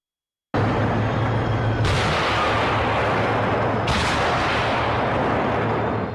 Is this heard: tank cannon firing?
yes